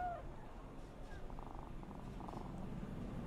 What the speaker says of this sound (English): Such a good kitty.